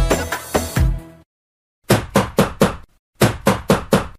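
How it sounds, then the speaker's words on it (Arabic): Loud banging on a door comes in urgent bursts: a cluster of heavy knocks, a pause, then two rapid series of five or so pounding blows, each sharp and close. "مين اللي بيرزع كده في الباب؟"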